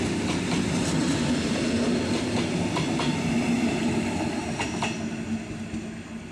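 A German red double-deck regional train rolls past nearby, a steady loud rumble with rhythmic wheel clicks over rail joints and faint high squeal throughout.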